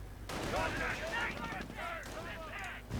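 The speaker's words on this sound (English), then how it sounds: "I guess the enemy's calling in artillery here" Artillery fire in Company of Heroes: Panzer Elite: steady rumbling battlefield barrage with scattered blasts, continuous for the full stretch and running under talking voices.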